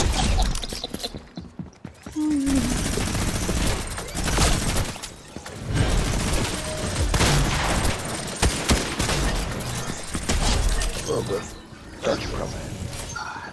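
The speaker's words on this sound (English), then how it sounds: "I love the starter pistol." Fortnite starter pistol firing in a busy match, a series of loud sharp shots and clatters spread across the stretch amid bursts of game noise, with people talking over it.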